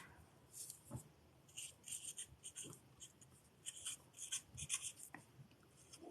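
Pen or marker scratching out an answer during a maths class, soft irregular strokes and taps, quiet and close with no talk.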